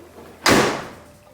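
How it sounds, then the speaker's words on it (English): The door of a Nissan Skyline R33 fitted with a new body kit shuts once with a single loud, close thud that fades out quickly, with no talking. "just open the door, close it."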